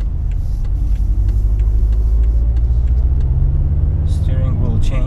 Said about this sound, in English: You can hear exhaust a little bit better.